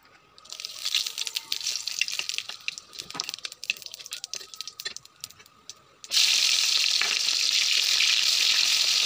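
Onions browning in a pan for a taro curry give a steady close sizzle with faint rattles. Around six seconds the frying turns suddenly louder and denser, as if something has just been added to the hot oil.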